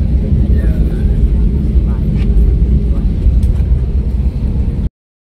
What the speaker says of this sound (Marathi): आमची फ्लाईट आता टेकऑफ झालेली आहे बघा